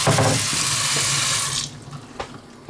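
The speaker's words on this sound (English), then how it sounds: "That's strictly hot water. It's draining nicely." Hot tap water runs steadily into a stainless steel kitchen sink, then cuts off, leaving a softer gurgle of draining water with a faint knock, nearby and without talk.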